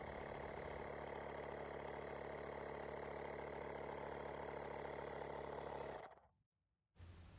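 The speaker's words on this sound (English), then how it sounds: "With a battery-powered air compressor, you don't have to deal with any of that." Yantu battery-powered cordless air inflator running with a steady, loud motor drone and buzzing hum, then cutting off briefly near the end before restarting.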